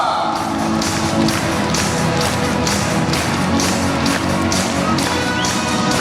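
Steady applause from an audience at a children's concert, dense continuous clapping with a faint crowd murmur, sustained and fairly loud throughout.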